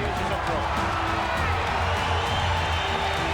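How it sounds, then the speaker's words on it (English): A large crowd roars and cheers continuously at a women's boxing match, a dense, loud wall of noise with a voice talking over it throughout. "The crowd roared its approval as these women warriors tore into each other"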